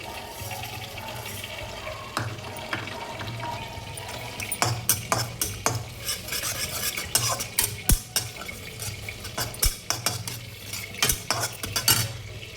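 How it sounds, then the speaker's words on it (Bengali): Sesame seeds dry-frying in a hot iron wok, a soft crackle under a busy run of rhythmic scraping stirs that grow denser and louder halfway through and continue to the end. "আমি একটু এই তিলটাকে একটু ভেজে নেব।"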